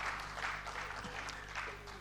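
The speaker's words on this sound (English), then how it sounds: "A round of applause for him." Applause from an audience at an engineering week opening ceremony in Abuja, a moderate, fairly distant patter of clapping across a hall, with a faint steady hum underneath.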